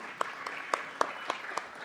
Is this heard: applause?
yes